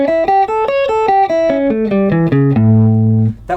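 An A dominant 7th arpeggio in the E shape, rooted on the sixth string, is picked on guitar as clear single notes that step down evenly and end on a held low note.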